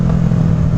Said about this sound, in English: Oh, that backfire.